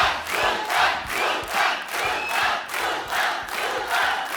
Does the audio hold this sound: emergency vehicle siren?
no